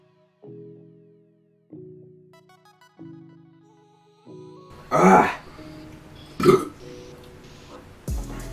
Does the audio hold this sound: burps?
yes